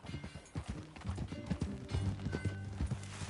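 In Red Dead Redemption 2, a ridden horse's hoofbeats thud in a fast, regular gallop, close and continuous, mixed with faint tack and game ambience.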